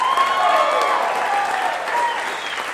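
A large concert audience applauds a jazz ensemble steadily, a dense wash of clapping with a few faint cheers and whistles drifting through it.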